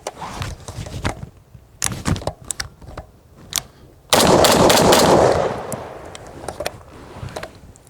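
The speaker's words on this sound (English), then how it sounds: "First drill up, 4 rounds on target." A DSA Para FAL rifle fires four rounds in a shooting drill, loud sharp cracks spaced through the clip, one heavy blast with a lingering ring, amid faint clicks and handling noise.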